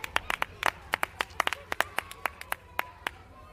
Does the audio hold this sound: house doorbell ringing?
no